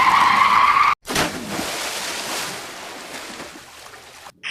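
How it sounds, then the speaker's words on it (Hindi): A big toy vehicle in a cartoon drives into a pond: a tonal engine-like whine, then a sharp cut into a loud rushing splash of water that gradually fades. "ये देखो कितना बड़ा गाड़ी आ रहा है और ये अपने तालाब में जा रहा है।"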